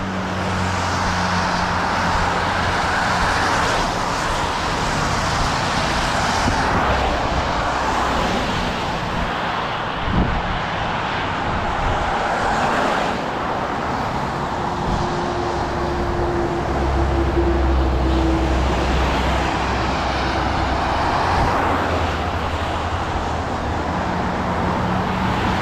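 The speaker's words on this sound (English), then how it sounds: "Traffic's loud when the road's wet." Road traffic passing on a wet road, a continuous loud hiss of tyres on spray-soaked asphalt with engine rumble swelling and fading as vehicles go by, heard during a walk.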